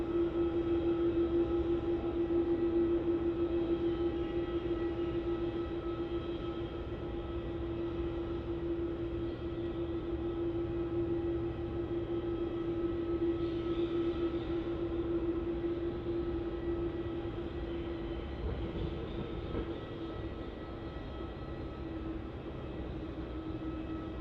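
A Philippine Airlines airliner at Melbourne Airport, heard as a steady, distant jet engine drone with a sustained whine, holding a fairly even level throughout with no talking.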